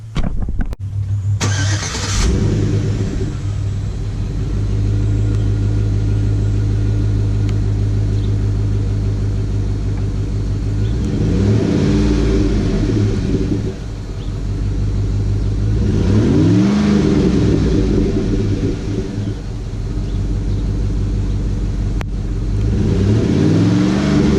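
A Chevy Suburban engine starts with a quick crank, then idles with a low rumble and is revved up several times in rising, falling swells.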